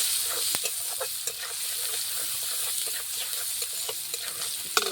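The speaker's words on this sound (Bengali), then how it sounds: "মাছ ভাজা তেলে পেঁয়াজ দিয়ে দিলাম।" Chopped onions sizzling in hot oil left over from frying fish, a steady bright hiss with occasional crackles and stirring clicks, close up and with no one speaking.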